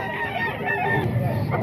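Chickens and roosters crowd a busy poultry market stall at a Calumpit tiangge, clucking and crowing continuously in a dense, close, noisy mix.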